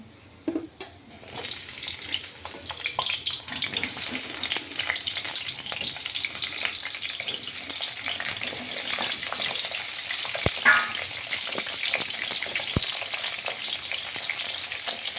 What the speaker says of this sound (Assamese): মই এতিয়া আলু আৰু পটলখিনি ভালদৰে ফ্ৰাই কৰি ল'ম।